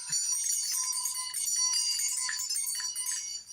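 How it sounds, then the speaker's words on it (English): Bells jingle in a bright, continuous high shimmer, a steady tinkling texture lasting several seconds with no speech over it. "Bells."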